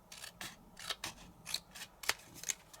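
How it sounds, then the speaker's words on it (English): Scissors cutting card stock across a piece being trimmed down for a handmade card banner. About eight crisp, close snips come in an uneven rhythm with quiet pauses between them. No one talks. "let me just cut this down. So we're going to cut that across"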